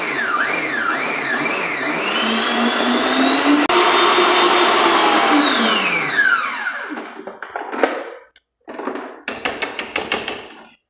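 Electric mixer beating cake pan release paste in a home kitchen, a loud steady whirring motor with shifting pitch that winds down near the end, followed by short clattering knocks.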